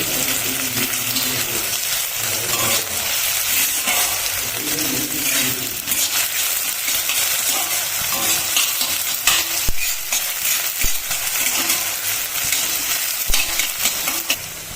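Onions and green chilies fry in a pan for a duck egg dish, a steady close sizzle with frequent stirring scrapes and small clinks throughout, no talking.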